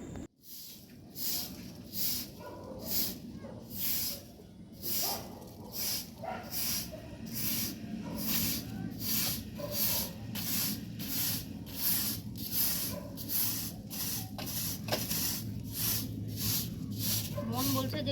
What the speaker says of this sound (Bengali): এবার ছাদটা একটু ঝাড় দিচ্ছি